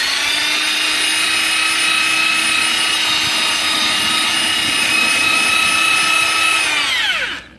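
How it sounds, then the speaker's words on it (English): Rotary drill fitted with a fibre disc cleaning surface rust off a Porsche Boxster brake hub: a loud, steady high-pitched whine that holds constant for about seven seconds, then winds down as the drill stops. "I've got a fibre disc on a rotary drill here."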